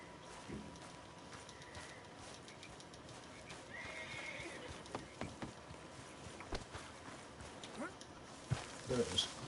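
A horse in the video game Red Dead Redemption 2 whinnies faintly and its hooves clip-clop amid quiet ambient game sounds, with scattered soft thuds and low background noise throughout.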